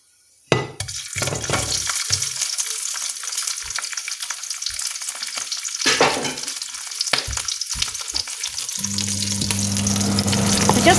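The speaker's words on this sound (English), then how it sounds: "we're going to just fry those prawns heads, because those heads give off a lot of flavour" Prawn heads hit a hot pan with a sharp crackle, then a steady, loud sizzle of frying continues with occasional clinks and stirring.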